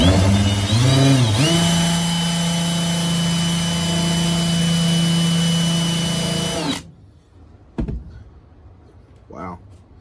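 A Harbor Freight countersink bit drills into plywood with a loud, steady whine for about seven seconds, the pitch dipping briefly as the bit bites, then cuts off abruptly, leaving a few faint handling knocks.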